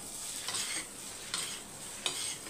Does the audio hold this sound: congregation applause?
no